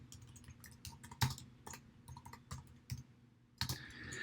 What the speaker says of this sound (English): I'm just going to type in account titles.